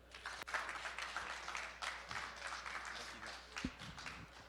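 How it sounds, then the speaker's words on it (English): Audience applause after a talk in an innovation project session, sustained clapping at moderate level with a sharp clap standing out near the start. "Another round of applause."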